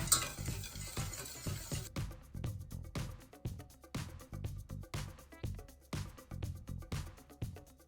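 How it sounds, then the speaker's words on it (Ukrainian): A spoon scrapes rhythmically around a bowl in quick repeated strokes, steady and close, with no talking. "добре перемішуючи"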